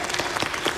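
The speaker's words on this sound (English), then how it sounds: "Please give a big round of applause for Ronnie and Ralph." Brief burst of audience applause for two introduced guests, dense clapping heard only for a moment at moderate loudness.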